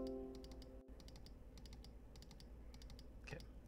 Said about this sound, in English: Hopefully you can hear my mouse.